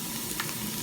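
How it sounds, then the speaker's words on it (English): Steady, soft sizzling of food frying in a pan, a continuous crackly hiss with no talking. "just gonna wait for this to start sizzling a little bit"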